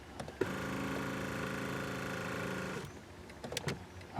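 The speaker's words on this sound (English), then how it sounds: "continue to roll the accelerator pedal all the way out to where they're at the same point" The adjustable accelerator pedal motor of a 2016 Ford F-350 hums steadily for about two and a half seconds at close range, framed by a few clicks and light handling noises before and after.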